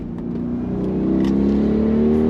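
A 2022 Audi RS Q8 performance SUV powers out of a turn, its engine note climbing steadily and building in pitch and loudness as it accelerates, with no voices over it.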